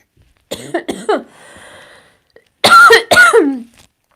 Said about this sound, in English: Sorry, I'm coughing on something.